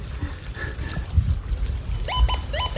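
A metal detector sweeping for gold outdoors gives a run of repeated short electronic beeps near the end, rising over steady wind rumble and handling noise.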